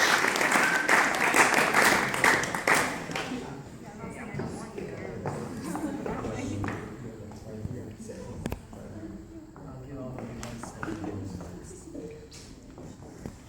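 A graduation audience applauds loudly for the first few seconds, then the clapping fades into a quieter room murmur with scattered taps and voices talking over the remaining stretch.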